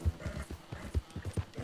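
Horse hooves clip-clop in an even rhythm in Red Dead Redemption 2, roughly eight soft, close thuds in quick succession with no talking over them.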